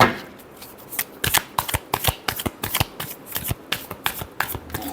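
Tarot cards are riffled and shuffled by hand at close range in a dense run of crisp, rapid flicks and snaps. The bursts come in irregular rhythm and sound clear with no talk over them.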